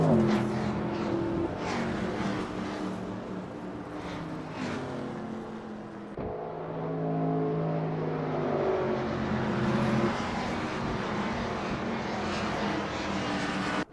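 Engines of NASCAR stock cars hum steadily behind a safety car at Motegi in Assetto Corsa, a continuous droning roar with shifting pitch as the pack runs at reduced pace, fairly loud and sustained throughout with no talk.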